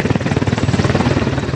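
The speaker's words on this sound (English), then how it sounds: "We're waiting for a helicopter to take us out of a dangerous situation." A military helicopter's rotor thumps in a fast, steady rhythmic beat, loud and close, with no voices over it.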